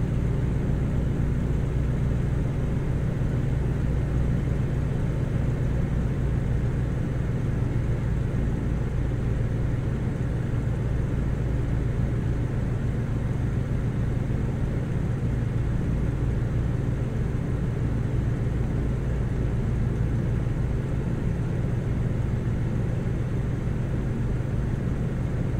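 Engines of a Junkers Ju-52 in Microsoft Flight Simulator running at added power, a steady, dense droning rumble with a low throbbing tone that continues unbroken throughout, with no talk.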